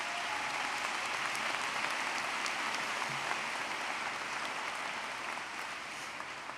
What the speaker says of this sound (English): Let's get a little round of applause for all of them one more time.